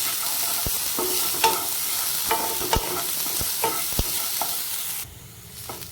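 Chopped onion fries for veg fried rice, a steady close sizzle punctuated by repeated sharp clacks of a spatula stirring against the pan, the hiss dropping away near the end.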